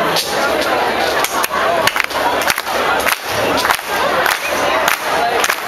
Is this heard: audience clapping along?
yes